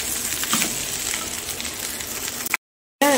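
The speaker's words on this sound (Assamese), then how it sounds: "এতিয়া মই ধুনীয়াকে ভাজি লম ভাতখিনি" Rice frying in a pan with turmeric and salt sizzles steadily with occasional stirring scrapes, up close, then cuts out abruptly for a moment near the end.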